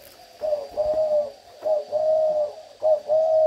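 Spotted dove cooing close by in three repeated phrases of soft, low, steady coos separated by short pauses, clear and alone with no talk.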